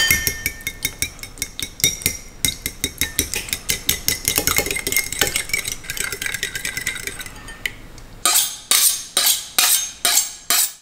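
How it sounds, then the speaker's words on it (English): Metal utensil scraping and clinking against a pan while stirring tomato and egg stir-fry, a quick run of rhythmic taps and scrapes that gives way to several louder, sharper strikes near the end, close and with no talk. "Time to stir shit up."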